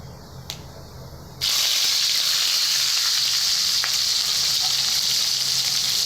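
Onions hit hot oil in a pan for a jackfruit curry, bursting into a loud, steady sizzle that holds close and continuous after a short quieter moment.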